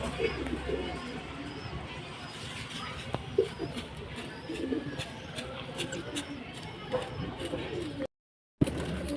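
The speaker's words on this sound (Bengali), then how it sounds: "এটাই দুটোই বাচ্চা পায়রা, একদম চিচি বাচ্চা" Baby pigeons, a pair of very young squabs, give soft cooing and chirps through a noisy room while a person talks over them, with a brief dropout near the end.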